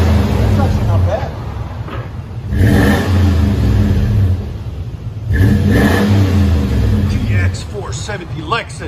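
A Lexus GX 470 with a 4.7L V8 and aftermarket exhaust revs twice in loud, deep bursts over a steady idle rumble, close by, while people talk around it.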